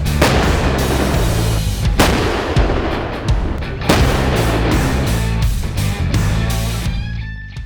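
K-9 self-propelled howitzers firing during a mechanized infantry live-fire drill, several heavy booming blasts at irregular intervals, each loud and sharp with a rolling tail, no voices.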